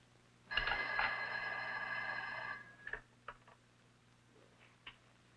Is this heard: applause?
no